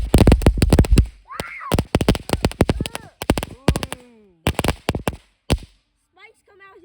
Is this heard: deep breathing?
no